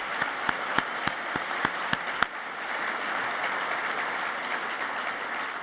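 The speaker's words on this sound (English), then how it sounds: "Let's give them all a big round of applause." Sharp claps open the stretch, then an audience at a Maryland business event led by Governor Larry Hogan breaks into sustained applause, a dense steady patter that carries on to the end.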